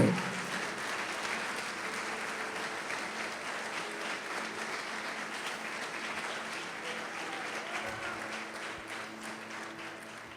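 A large church congregation claps loudly and continuously during a service, a dense, steady roar of applause lasting several seconds without voices standing out.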